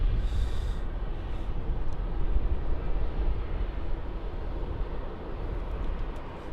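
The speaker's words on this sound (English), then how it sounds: "Looks like a 717. Yes, this is Qantas Link flight 1550 coming in from Hobart." A Qantas Link Boeing 717 jet arrives on runway 34 at Melbourne Airport, giving a continuous low engine roar that holds steady at moderate distance and eases slightly toward the end.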